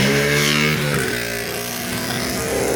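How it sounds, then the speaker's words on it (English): Busy street traffic at Nusa Penida, Bali, with cars and motorbikes rumbling close by in a steady, loud mix of engine drone and revving; no clear horn stands out. "just right away cars, bikes, honking."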